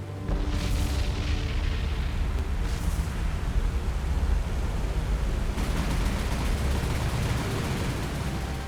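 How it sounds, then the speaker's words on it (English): Aircraft strafe cargo ships in the naval combat game War on the Sea, a dense continuous roar of gunfire, booms and explosions that stays loud and constant throughout, with no speech. "And we shall strafe that down."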